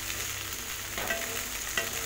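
Okra (lady's finger) frying in a pan for a crisp poriyal, a brief steady close sizzle with a couple of small stirring clicks.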